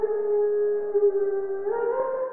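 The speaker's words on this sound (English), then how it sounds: "I brought this effect on there called Vocal Bender by Waves." A voice run through Waves Vocal Bender with the formant lowered holds one long steady howling tone, then bends slightly upward near the end, alone and fairly loud.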